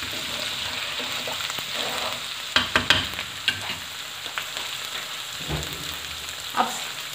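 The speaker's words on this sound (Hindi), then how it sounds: "अब मैं इसमें ये सारे मसाले डाल रही हूँ। बस 1 मिनट इनको फ्राई करके" Spices fry in a karahi for boneless achari chicken, making a steady sizzle broken by a cluster of sharp ladle clanks and scrapes in the middle and one more near the end.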